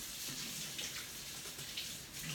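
Running tap water splashes steadily over homemade drawer dividers being rinsed, a soft, even, close-up wash with faint bumps of handling.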